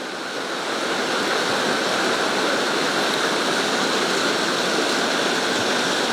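A river rushes steadily downstream from the Bout du Monde waterfall near Volvic, a dense, continuous roar of flowing water that stays loud and even throughout, with no voices.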